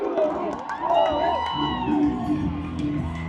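Crowd cheering and whooping at the Bahrain Grand Prix, a dense, steady roar of many voices with a voice talking over it throughout.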